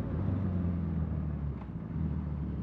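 Motorcycle engine drone on US 421's twisty mountain stretch as the rider gears down for a sharp turn, a steady low rumble with harmonic bands and wind, continuous and close with no talk.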